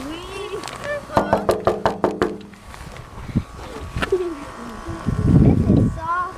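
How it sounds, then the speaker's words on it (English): Knuckles rap on a house window during a winter storm: about eight quick, evenly spaced knocks, close and crisp. Voices of an adult and children talk before and after the knocking. "Here, let's knock on the window."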